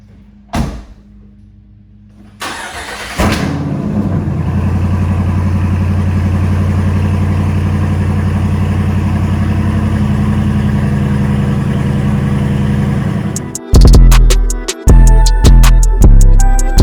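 A Jeep Wrangler Rubicon 392 V8 with straight-piped exhaust fires up loudly after a door clunk, settles into a deep, rumbling idle, then barks through several sharp, very loud revs.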